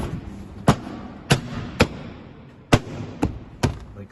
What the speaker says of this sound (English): Just give it a good bang,